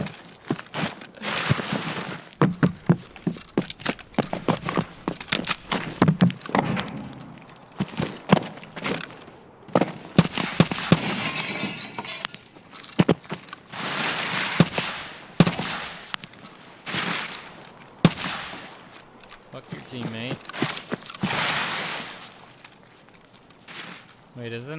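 Rapid bursts of rifle gunfire in the game Escape From Tarkov, loud sharp shots in irregular volleys and single cracks, mixed with footsteps and someone talking over much of it.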